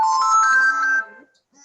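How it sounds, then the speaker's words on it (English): A mobile phone rings during an online group session, a bright melodic ringtone with a few rising tones playing loud and close for about a second before cutting off. "Is someone's phone on?"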